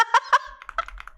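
A few distinct keystrokes on a computer keyboard, two loud clacks followed by a quicker burst of softer taps, close and clear with a faint low rumble under part of it.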